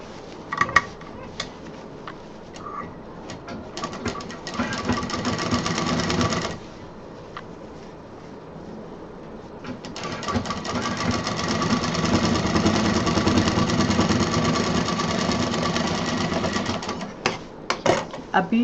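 Sewing machine stitching fabric for a machine cover, running in two long continuous rattling runs with a short pause, preceded by a few clicks, while someone talks over it.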